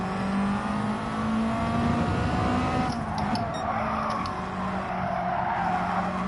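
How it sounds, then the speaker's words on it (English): Tires skid and squeal in a Gran Turismo 7 race at Monza, a sustained whine over steady engine drone that rises into a broader screech midway, heard in the background with no talk. "listen to the skids in the background"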